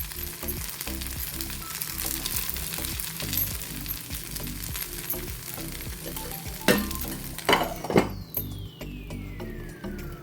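Sabudana appe frying in an appe pan over medium heat, a constant close sizzle and crackle running throughout, with a few brief clinks near the end and no talk.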